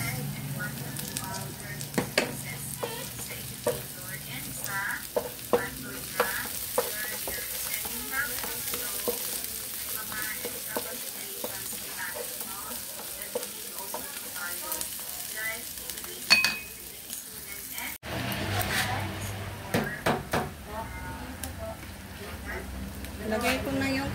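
Onions fry in a hot pan with a continuous sizzle and crackle, stirred now and then, heard close while a person speaks over the cooking.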